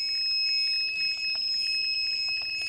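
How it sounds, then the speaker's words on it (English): A radiation dosimeter at Chernobyl sounds a steady, shrill high-pitched electronic overflow alarm, continuous and close, with faint clicks and rustling beneath it and no talk. "Okay, everything is beeping. I think that's the gamma sapiens that is beeping."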